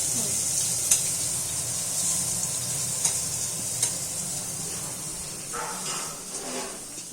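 Curry cooking in a pan, with a steady bright sizzle running throughout and occasional scraping stirs near the end, close and continuous.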